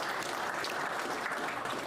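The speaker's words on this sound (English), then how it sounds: "Let's give them another round of applause" Audience applause fills a press conference for a megasite certification, a steady dense wash of clapping from a crowd that holds evenly for the full two seconds without fading.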